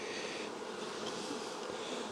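Honey bees buzz steadily around a frame of brood from a nuc hive, a close, continuous droning hum with no talking.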